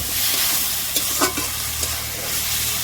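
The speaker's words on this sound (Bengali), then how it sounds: "আলু পেঁয়াজ এবার কষে নিচ্ছি" Potatoes and onions sizzle in hot oil while a spatula scrapes and knocks against the pan a few times, a close, steady frying hiss with no voices.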